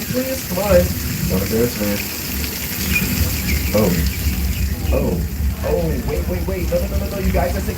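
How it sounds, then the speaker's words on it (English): Spraying water from a rain special effect at Universal Studios Hollywood hisses steadily beneath a man's lively, close-up talking. "can we cut the rain? Not more water."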